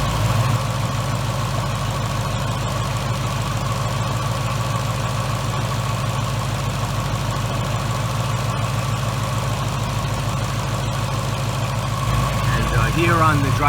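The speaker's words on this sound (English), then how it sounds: "All you hear is the fuel injectors just kind of snapping away like any other Coyote motor." A Whipple-supercharged 2018 Ford Mustang GT with a Coyote V8 idles steadily up close, a smooth low drone with quick, fine ticking from the fuel injectors throughout.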